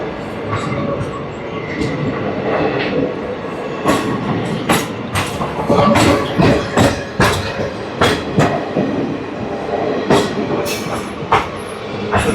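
A MEMU train between Rajahmundry and Vijayawada rolls over the rails with loud, rhythmic clickety-clack wheel beats and sharp joint knocks over a constant carriage rumble.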